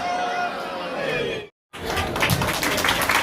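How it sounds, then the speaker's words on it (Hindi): A ceremony crowd gathered for a minister's community assurance breaks into steady applause, broken by a brief total silence, then resuming as a louder, fuller wash of clapping with voices mixed in. "ताली में कमी नहीं कर रहे हैं।"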